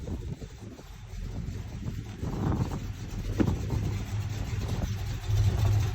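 A 1947 Ford's engine runs steadily as the car is moved out of a brewery, a low rumbling idle with wind noise buffeting the microphone, fairly close and without voices.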